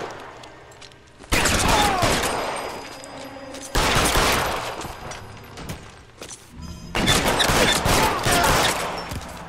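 Gunfire in an L.A. Noire shootout comes in three loud, dense bursts of rapid shots separated by brief quieter gaps, close and harsh against the game's background.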